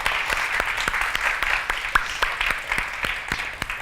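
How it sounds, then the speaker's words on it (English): Steady applause from a crowd, many hands clapping together with a few sharper claps standing out. "If we can give them a round of applause."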